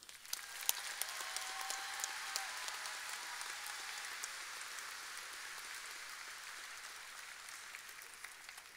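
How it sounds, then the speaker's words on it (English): Applause for graduates at a spring university commencement ceremony, a faint, distant patter of clapping from a large crowd, steady for the whole stretch, with no voices over it. "Please honor these graduates with a round of applause."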